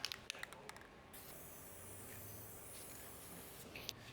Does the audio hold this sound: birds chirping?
no